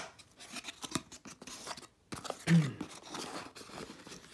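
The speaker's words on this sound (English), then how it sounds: "here's the box. It's not taped. I just need to open this." An untaped cardboard box containing a lidar laser scanner development kit being opened by hand, with close crinkling, scraping and tearing of flaps in short irregular bursts.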